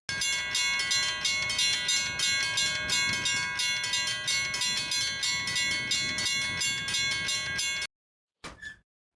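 Railroad crossing mechanical bells in CCSPR, a Western Clone Haze and a Rayco or Griswold bell, ringing loudly in rapid continuous strokes for about eight seconds, then stopping abruptly, followed by a short clunk.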